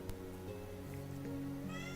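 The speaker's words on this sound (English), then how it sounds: "Brilliantly timed meow right after the unintentional head pun." A cat meows once at the end, a short rising cry heard over steady low background hum, indoors during an art stream.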